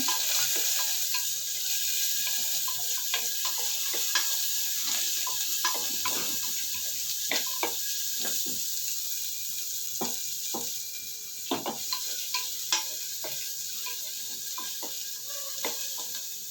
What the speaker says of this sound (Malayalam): അതിലേക്ക് ചെറിയ ഉള്ളി അരിഞ്ഞത് രണ്ടും കൂടെ നന്നായിട്ടൊന്ന് മൂത്ത് വരട്ടെ